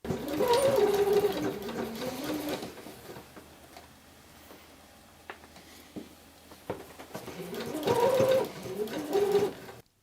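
A sewing machine stitches a seam on a bomber jacket in two loud bursts at the start and end, with a quieter pause between them where faint taps and a bird's cooing come through.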